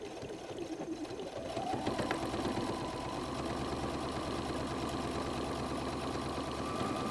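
A sewing machine stitches up the side of a messenger bag pocket with a sharp 90/14 needle, running as a steady close mechanical chatter that picks up speed after about two seconds and holds an even pace.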